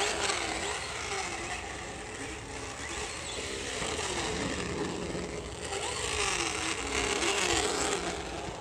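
A Traxxas Slash VXL RC truck driving on a race track, heard from onboard as a continuous, dense electric motor whine and gear rattle, loud and close, with surging intensity throughout.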